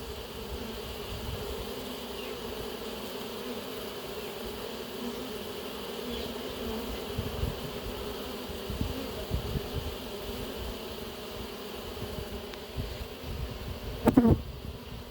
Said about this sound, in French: Pas folles les abeilles.